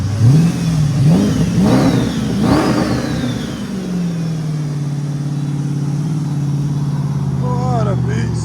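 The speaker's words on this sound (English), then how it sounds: "Rev it hard" A 6.4-liter HEMI-swapped Chrysler 300 with straight pipes and a scooped hood revs hard several times in rising, roaring blips, then settles into a loud, steady idle rumble close by, with people talking over it.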